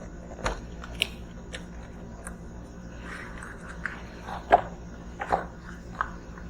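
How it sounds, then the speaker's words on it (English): Packaging for a Milwaukee M12 FUEL 3/8-inch extended reach high speed ratchet being opened: quiet, scattered snips, clicks and papery crinkles with soft rustling in between, close by and without talk. "Alright, so we're going to go ahead and unbox it here."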